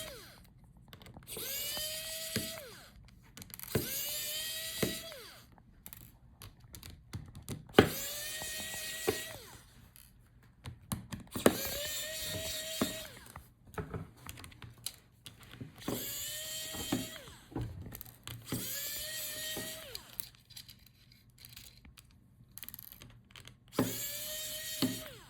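Small electric screwdriver whirring in repeated bursts while hinges and screen rails are removed during an Asus VivoBook F1502ZA laptop teardown, each short rising whine separated by quieter handling clicks.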